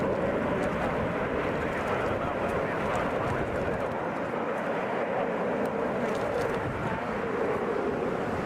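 An Airbus A320 flying in from Chicago O'Hare to Hartsfield-Jackson in Atlanta gives a steady, loud broadband engine roar that holds throughout, with faint background voices.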